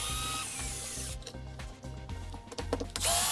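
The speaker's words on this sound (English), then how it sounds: "we are going really slow with this power tool" A power tool run slowly to remove the bumper from a Fireteam 6S slider RC car whirs in uneven bursts, fairly faint, with shifting pitch as it works.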